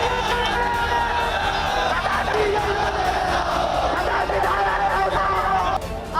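A large crowd of Samajwadi Party supporters at an election rally in Raebareli shouts and cheers continuously around a campaign vehicle, a dense roar of voices with chants and whoops up close.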